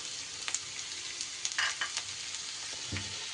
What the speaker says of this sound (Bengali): এবার আমি এর উপরে দিয়ে দিচ্ছি বিনসের কুচি